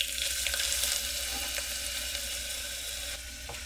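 Onions sautéing in hot avocado oil in a pot, a steady close hiss and sizzle with faint crackles and stirring scrapes, no voices.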